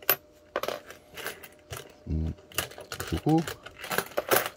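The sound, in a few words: foreign coins clinking while being sorted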